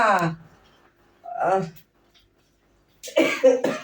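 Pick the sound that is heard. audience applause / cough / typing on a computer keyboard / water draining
cough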